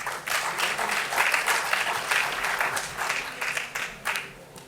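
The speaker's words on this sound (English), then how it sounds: "Round of applause, please." Audience applause welcoming a speaker to the stage at a tech summit in Bengaluru, many hands clapping in a rippling, moderately loud wash that swells and then gradually thins toward the end.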